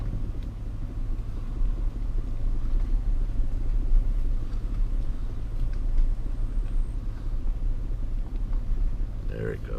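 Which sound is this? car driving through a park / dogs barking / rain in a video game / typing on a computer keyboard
car driving through a park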